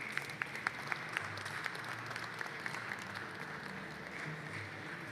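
Crowd at a glass-blowing studio applauding artists finishing a glass piece, a soft, distant, steady patter of clapping lasting about five seconds, with a few sharper claps near the start.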